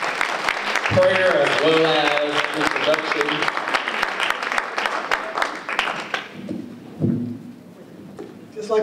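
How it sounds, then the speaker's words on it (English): A round of applause for a reverend at a women of color entrepreneur conference, a crowd of clapping hands filling the room and then fading as a voice speaks over the last claps. "Let's give Reverend Moore another round of applause for that"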